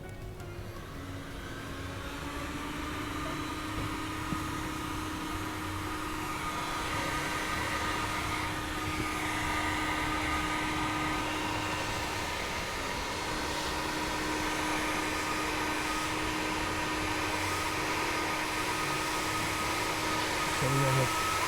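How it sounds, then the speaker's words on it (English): Steady roaring hiss of a roofing torch heating bitumen during heat welding of EPDM on a warm deck rear extension roof, continuous and fairly loud with no pauses. "it will stay in place because it's starting to melt whilst we're able to heat weld it"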